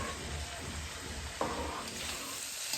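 Payesh, a rice pudding offering, cooking in a pot with a steady close sizzle and bubbling, broken by brief stirring scrapes partway through.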